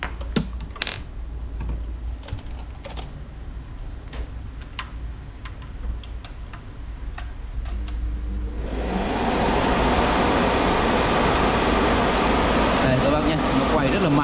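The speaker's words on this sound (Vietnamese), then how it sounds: "Nếu mà quạt thì nó thổi khá là mạnh" A used Japanese industrial blower fan is switched on after a stretch of quiet ticking, roaring up into a loud, steady rushing whoosh that continues to the end, close to the listener with no speech over it.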